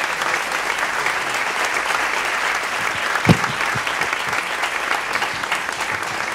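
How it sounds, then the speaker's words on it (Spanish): Sustained applause from a concert audience, steady clapping throughout with one louder clap near the middle. "Esta pieza es de Ernesto Monsalve, un aplauso para él también."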